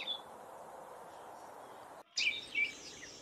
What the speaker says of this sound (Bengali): পাখিগুলো ডাকছে, শোন।